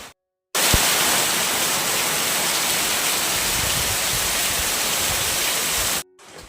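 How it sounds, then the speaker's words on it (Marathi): Heavy rain pours down as a dense, continuous roar, loud and even for about five and a half seconds, starting and stopping abruptly with brief silence at either end. "आता जोरात पाऊस बघा पडायला सुरुवात झालेली आहे"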